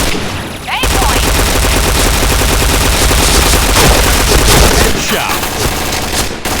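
P90 submachine gun fire in a video game: loud, sustained rapid automatic bursts roll almost continuously after a short quiet start, with small breaks between volleys and no talking.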